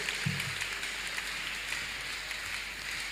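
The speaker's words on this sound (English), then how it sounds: "Clap your hands unto God of the chosen." A church congregation clapping hands during a Tuesday miracle service, a dense steady patter of many hands heard from a distance, soft and continuous without talk.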